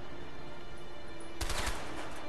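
Gunshots in A Way Out: after steady low ambient noise, a few sharp, fairly loud shots crack in quick succession near the end.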